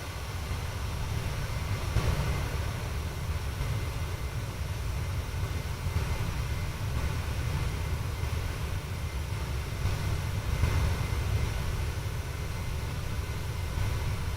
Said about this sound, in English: Real jet engine sounds there.